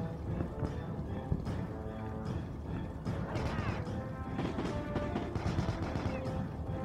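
Enemy gunfire in Heavy Fire: Shattered Spear, a steady spray of sharp shots and crashing impacts over game noise, moderately loud throughout with bursts of rapid fire.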